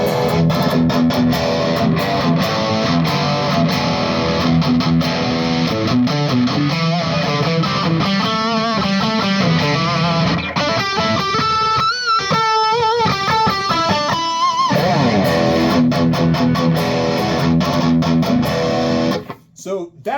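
Electric guitar played through a BOSS Katana solid-state amp with distortion, a sustained gritty chord followed by a run of choppy, rhythmic picked notes, loud and up close, ending in a brief fade.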